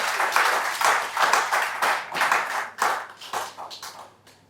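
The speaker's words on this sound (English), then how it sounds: "Please give a round of applause to this exchange panel." Audience applause for a panel at a workshop on Nigeria's rebased GDP and CPI. The claps come in uneven bursts with audible individual hand claps, swelling and fading before tapering off at the end.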